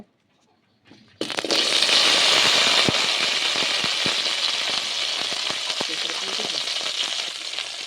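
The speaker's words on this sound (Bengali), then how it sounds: "আলু ভাজার তেলে আমি এখন ভেন্ডিটা দিয়ে দেব।" Okra goes into hot oil left from frying potatoes: after a quiet start, a loud, sudden sizzle erupts and continues as a dense, crackling hiss close by.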